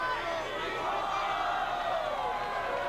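Crowd at a 1989 ultimate frisbee national final reacting to a foul call, a steady wash of voices, shouts and whoops from many spectators, with no gaps.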